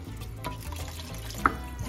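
Water pours steadily into a pot for Puerto Rican arroz apastelado, a soft continuous splash and trickle heard close up with no talking.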